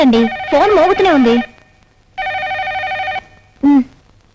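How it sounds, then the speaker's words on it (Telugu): A telephone rings in a domestic scene from a Telugu comedy film, loud electronic ringtone bursts in three separated pulses, the first warbling and the later ones steady, near and clear with no talk over them. "ఫోన్ మోగుతూనే ఉంది."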